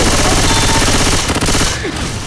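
Rapid automatic gunfire rattles from teammates in the video game Left 4 Dead 2, loud dense bursts up close that thin out near the end.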